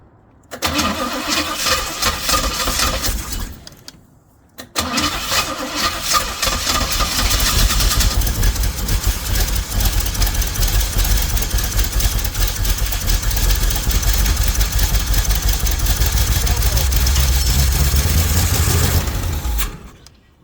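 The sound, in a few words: pink Jeep engine running rough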